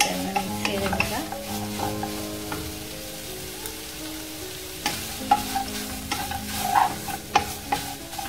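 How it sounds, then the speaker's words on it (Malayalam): Paneer fries in a pan while a utensil stirs it, with a soft steady sizzle under repeated scraping strokes and occasional sharper clinks against the pan, close and alone. "ജസ്റ്റ് ആ വെള്ളമയൊക്കെ ഒന്ന് മാറുന്നത് വരെ ഒന്ന് മിക്സ് ചെയ്തെടുക്കുക"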